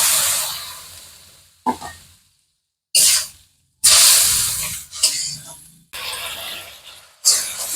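Water splashed into a hot pan of cooked spices, several sharp hissing bursts separated by brief silences, loud and close.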